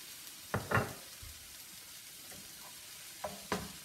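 Leeks stir-fry with soy sauce in a pan, a faint low sizzle under a few distinct scraping stirs of a utensil, quiet and close.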